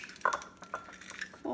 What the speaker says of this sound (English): I'm just gonna crack them separately just in case